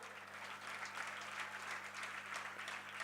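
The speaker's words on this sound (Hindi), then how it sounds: "अरे अपने सम्मान में तो तालियां बजाओ।" A crowd at a grand welcoming ceremony for a Jain monk and his group in Nagpur claps steadily. The applause sounds faint and distant over a low electrical hum.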